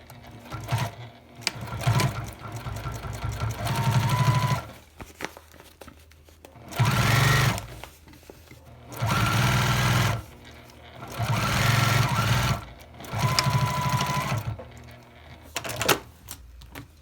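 Domestic sewing machine stitching a zipper onto a plastic-lined makeup bag, running in several loud, close bursts of rapid needle clatter separated by pauses and faint handling noises.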